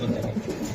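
Racing pigeons (chocolate racers) in a loft in Mirpur give a brief, soft, low cooing close by.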